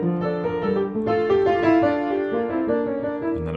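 Inverted form of the 12th fugue from Bach's Art of Fugue, several interwoven melodic voices moving in steady counterpoint, played continuously and fairly loud without any talking.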